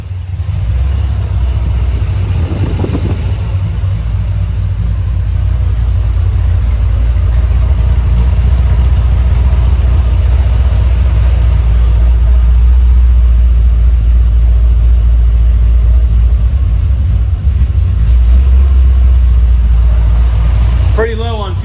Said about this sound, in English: got the Vette fired up, finished up all the wiring, and it's in the learning mode right now while idling